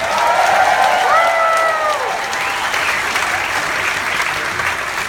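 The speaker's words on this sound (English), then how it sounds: "Let's hear it for Paula Bass" A cruise ship audience applauds the executive chef, with dense clapping and some cheers that stay steady and loud throughout, while a voice on the microphone briefly cuts through near the start.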